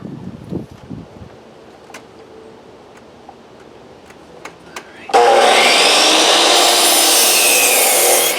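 A wooden board is cut to length, a steady loud sawing noise starting midway and running to the end after a quieter stretch with a few faint knocks and ticks.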